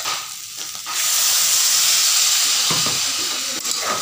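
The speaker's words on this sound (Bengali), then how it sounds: "এবার জল দিয়ে দিই" Water poured into a hot pan of jackfruit (echor) curry bursts into a loud, steady sizzling hiss that holds for several seconds.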